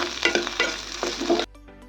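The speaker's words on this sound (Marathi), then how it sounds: "आपला कांदा छान परतून झाला आहे" Onion and garlic sizzle and are stirred in a hot pan for Savji egg curry, with close scraping strokes over steady frying, before the sizzle drops away near the end.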